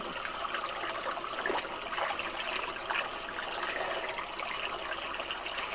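A jungle river flows steadily nearby, a continuous broad rush and trickle of moving water that holds an even level throughout, with no voices.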